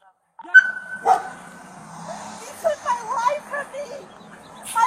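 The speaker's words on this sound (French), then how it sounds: "son labrador noir qui tourne autour de la police et qui aboie" A black labrador circling police officers barks and yips in several sharp bursts, some whiny and high, over a steady background hum with a voice talking in between.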